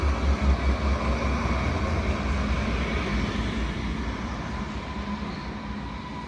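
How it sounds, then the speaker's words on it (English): Newcastle Beach tram number 56 rolls past the Station Hotel on the old Newcastle railway line, a steady rumbling pass that starts loudest and slowly fades as it moves away, with no voices. "Newcastle Beach Tram, number 56, passing the station hotel"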